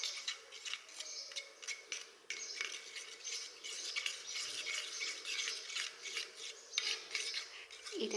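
A spoon scrapes and rattles steadily in a small bowl as milk cream is mixed with turmeric, a continuous rhythmic clinking close by with no talking.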